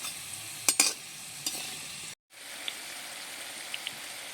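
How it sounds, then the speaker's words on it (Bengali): Chhena rolls frying in desi ghee give a steady, soft crackling sizzle. A few sharp clatters come early, then a brief break, then the sizzle resumes with scattered pops. "আবারও সব দিক ঘুরিয়ে এই রোলগুলোও সুন্দর করে ভেজে নেব।"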